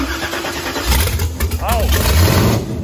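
Chevrolet Blazer engine cranking and firing up, a short churning crank that catches and roars into a rising idle, with people talking close by over it.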